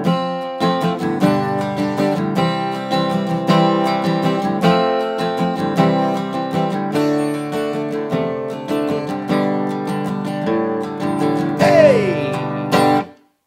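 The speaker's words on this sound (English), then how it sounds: "it does a little D, what I like to call a D walk down." Acoustic guitar strums a chord progression, close and steady, then finishes with a short descending bass walk-down to D before ringing out and stopping.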